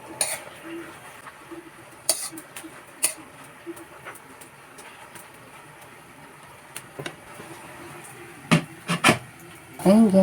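A small pan set on a stove for frying dried fish, giving sporadic metallic clinks and scrapes over a low, steady kitchen background, with a few louder clatters near the end.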